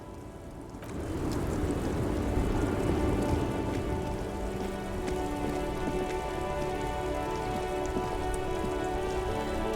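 Steady rain in a video game pours down on a traffic jam, hissing and pattering densely on a surface, starting abruptly after a brief quiet moment and continuing evenly throughout.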